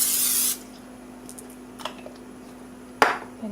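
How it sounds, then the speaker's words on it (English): A short, loud burst of cooking spray hisses over browned ground turkey, followed by faint clicks and a sharp knock of the can or pan. "now I'm going to spray this with some cooking spray."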